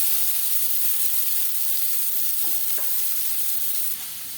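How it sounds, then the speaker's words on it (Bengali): Chopped onion fries in the oil left from frying rui fish, a close, bright, steady hiss of sizzling with a couple of soft stirring taps. The sizzle eases slightly near the end. "মাছ ভেজে নেওয়ার তেলে দিয়ে দেব পেঁয়াজ কুচি"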